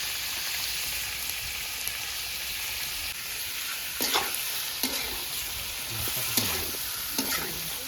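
Ginger and cumin paste frying in a pot, a constant bright sizzle that swells as a spoon scrapes and stirs through it several times, close and unbroken, no voices.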